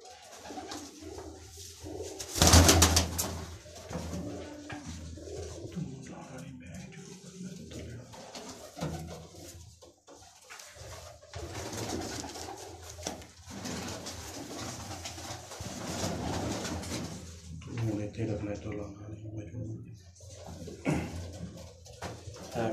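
Golden red-eyed pigeons coo faintly amid a long stretch of quiet ambient noise, with one loud sharp bump early on and soft scattered rustling.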